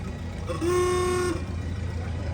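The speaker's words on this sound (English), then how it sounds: "And the horn works." A single steady car horn blast sounds for about a second against a constant background hum, at a Veterans Day parade in Prescott, Arizona.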